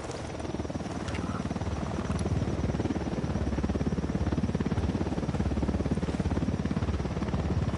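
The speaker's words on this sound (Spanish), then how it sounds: "¡Ojo! Un helicóptero de la unidad." Helicopter in the video game Ghost Recon Wildlands, a loud continuous rotor chop and engine whine, steady and close throughout.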